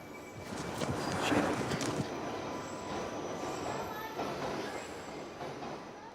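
A London Underground train rumbles through East Finchley station with steady rolling wheel noise and a faint squeal, continuous and fairly close, while a voice speaks over it.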